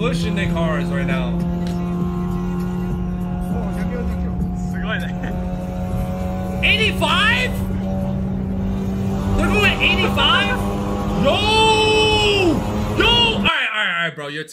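Lowered stance cars in Tokyo are driven hard with engines revving and whining. Strong engine drone runs throughout, with rising and falling pitch sweeps of acceleration and tire or exhaust squeals.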